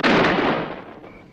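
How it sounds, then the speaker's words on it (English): Gunfire in a tense police standoff on a highway patrol drama, a loud burst of shots packed into about a second that quickly fades, with no speech over it. "3 shots."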